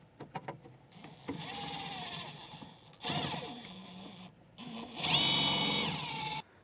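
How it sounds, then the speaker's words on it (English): Power drill driving a self-tapping screw into the back wall of a vehicle during a trailer brake controller wiring install, with several whining bursts of the motor rising and stopping in close succession, loud and near with no talk. "I'm just going to take a self-tapper and go to this back wall here."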